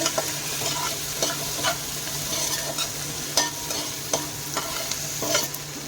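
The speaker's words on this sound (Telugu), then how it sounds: "ఒక చిన్న సైజు టమాటాని ఇలా చిన్న ముక్కలుగా కట్ చేసి వేయించుకోవాలి" Chopped tomato and onions frying in a pan for chicken fried rice, a steady sizzle with periodic scraping stirs of a spatula, moderately close and without any talk.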